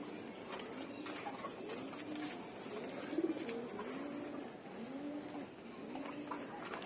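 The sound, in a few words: pigeons cooing in loft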